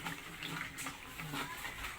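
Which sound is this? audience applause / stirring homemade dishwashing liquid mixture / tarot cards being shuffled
stirring homemade dishwashing liquid mixture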